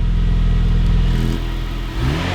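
A car engine revs loudly and close, its exhaust running with one muffler cut out, giving a deep, throaty drone that rises and then drops back toward idle.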